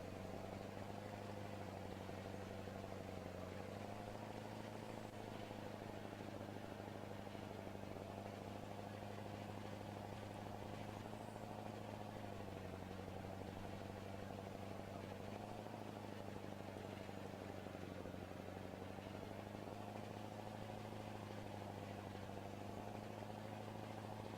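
A truck's engine drones steadily in Farming Simulator 2013, a continuous mid-pitched hum that shifts slightly in pitch as it drives along, with no voices.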